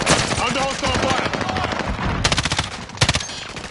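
Call of Duty gunfire rattles in rapid automatic bursts, loud and close, with dense repeated shots throughout and sharper clusters of fire near the end.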